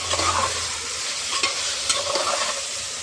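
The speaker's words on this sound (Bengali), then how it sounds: "ভালো করে ম্যারিনেট করে রাখা মাটনটা আমি এর মধ্যে দিয়ে এবারে সুন্দর করে নাড়াচাড়া করতে থাকবো" Marinated mutton and onions are stirred in a pan, sizzling steadily and close up, with scraping from the spoon and no voices.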